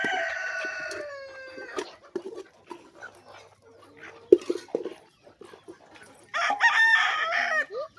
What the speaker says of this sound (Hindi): फ्री रेंज में हमारे पास 20 मुर्गियां रहते हैं।